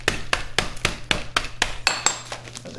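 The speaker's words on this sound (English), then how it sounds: "I take my meat tenderizer hammer, and I give them a few whacks" A meat tenderizer hammer whacks dates in a bag at a steady pace, about a dozen sharp, close thuds with a slight crunch, no voices.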